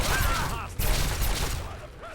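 Dense Fallout 3 gunfire, a loud continuous fusillade of overlapping shots with mechanical clatter, running steadily for about two seconds with faint voices mixed in.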